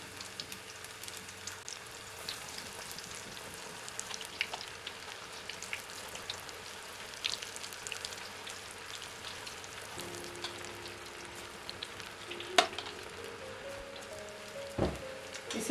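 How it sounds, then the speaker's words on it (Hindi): Macaroni pakoras frying in hot oil give a steady, dense sizzle and crackle like light rain, close and continuous, with a few brief louder pops and clinks near the end. "इसी तरह हम सारे पकोड़े तल लेते हैं"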